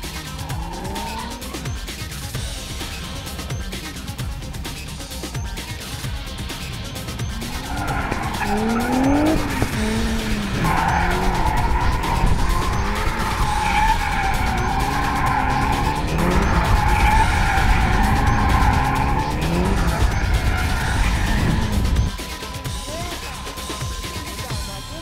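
Tires squeal and skid continuously as a car drifts in circles, engine revving up and down, the screech swelling louder midway before easing off.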